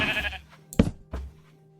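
Sheep bleating in Minecraft, several short nasal bleats in quick succession, loud and close, with no other sounds between them.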